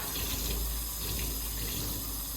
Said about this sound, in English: I'm gonna rinse out my microfiber cloth.